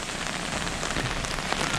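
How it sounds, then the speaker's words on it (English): Tropical storm rain drums on an umbrella on an Aruba beach, a dense close patter that stays steady and fairly loud throughout, with no voices. "I'm under an umbrella here so the camera can stay a little bit dry, and it is raining."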